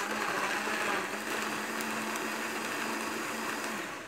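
A blender running continuously at full speed, whirring steadily as it purees leafy greens and cucumber, loud and close with no pauses.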